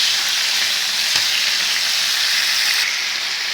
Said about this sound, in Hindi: आपने इस चिकन टिक्का को तेज़ आंच पर ही फ्राई करना है